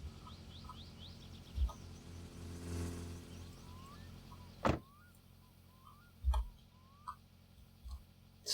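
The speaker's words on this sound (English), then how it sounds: "there's a car coming, so let's not be in the road when the car arrives" A car on a rural road in the game My Summer Car approaches and swells into a passing rumble. Birds chirp around it, and a few sharp knocks and thumps sound afterwards.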